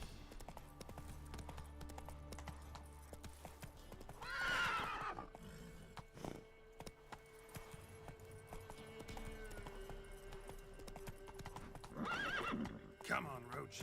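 Roach, the horse in The Witcher video game, trots with steady clip-clop hoofbeats and gives two loud neighs, one early and one late, while a voice speaks over the hooves.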